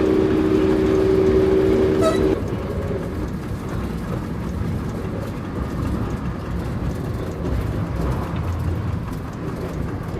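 CC 72000 diesel locomotive running on rails at speed near Dijon, a steady loud rumble of engine and wheels throughout, with a brief high tone early that fades after about two seconds.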